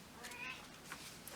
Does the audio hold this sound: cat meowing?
yes